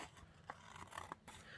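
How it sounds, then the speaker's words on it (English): Scissors trim along the edge of a handmade wedding card, giving a few quiet snips and light scraping cuts in an irregular rhythm, close but faint. "I like to do it with my scissors"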